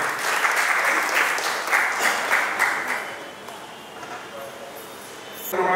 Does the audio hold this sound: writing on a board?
no